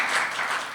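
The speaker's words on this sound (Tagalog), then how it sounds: "Can we give the Lord a clap offering of praise?" A church congregation clapping as praise to the Lord during a sermon, a brief burst of dense, continuous applause from many hands, fairly loud and without speech.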